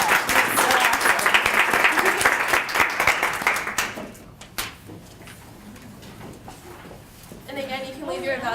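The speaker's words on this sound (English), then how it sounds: "Let's give a round of applause for the presenters." An audience at a research ethics class session claps for the presenters for about four seconds, then the applause dies away into room noise, a thump and people starting to talk.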